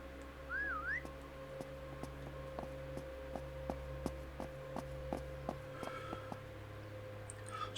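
A short rising, wavering whistle sounds in the zombie survival game Surroundead, followed by a run of evenly spaced ticking clicks over a steady low hum.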